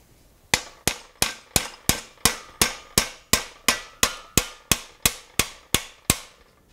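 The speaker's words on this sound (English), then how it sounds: "I'm using a combination of pulling down with the tongs and tapping with the hammer." A hammer taps metal while a rivet header is forged in a shop, about seventeen sharp, bright metallic strikes at a steady even rhythm, close and alone.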